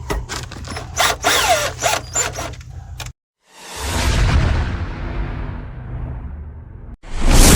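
A power screwdriver drives a screw while attic light fixtures are wired, giving a rough whirring burst in the first three seconds, then a longer loud grinding run after a brief pause, ending in another burst.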